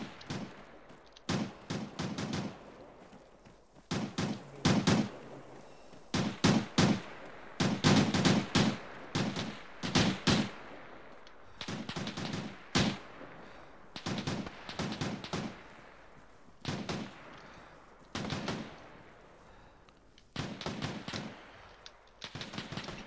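In the military shooter Arma 3, machine guns lay down suppressive fire in repeated rapid bursts of shots with thumping impacts between them, moderately distant and sustained.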